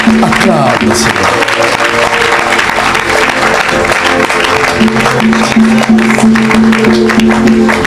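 A church congregation claps loudly and steadily for several seconds while acclaiming God, with voices and musical tones woven through the sustained applause.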